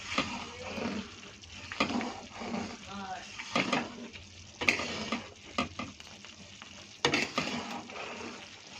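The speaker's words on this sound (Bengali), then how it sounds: "দেখো ঘি বানানোর জন্য জাল দেওয়ার পরে এরকম আসছে।" Butter heated and stirred in a pan to make ghee, with a soft bubbling sizzle and scraping stirs and a few sharper clinks against the pan, while someone talks over it.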